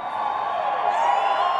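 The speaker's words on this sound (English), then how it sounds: "today's appearance at a Boeing factory in front of hundreds of cheering workers" Hundreds of Boeing factory workers cheering at an indoor plant appearance, a sustained loud crowd roar of voices blending into a steady wall of whoops throughout.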